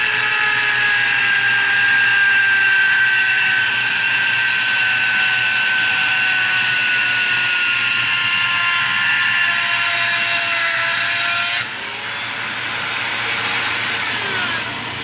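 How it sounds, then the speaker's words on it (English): A grinding stone spun at high speed on a rotary tool shapes the cocking hammer of a Crosman 2240 air pistol, throwing sparks. The steady, loud, whining grind runs throughout, its pitch dropping slightly near the end. "I'm going to spin it a little faster for the grinding tool because we need to grind away quickly."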